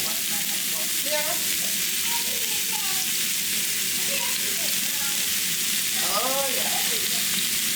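Stir fry sizzling loudly and steadily in a hot pan, a constant crackling hiss with the occasional scrape of stirring, while a person briefly speaks over it.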